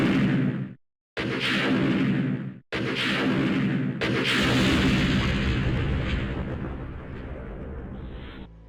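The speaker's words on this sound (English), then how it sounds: "The only way to take him out for good is with some heavy artillery." Heavy artillery blasts in the Resident Evil 2 video game, a series of loud booming explosions split by sudden silent cuts, then a long rumbling roar that fades away.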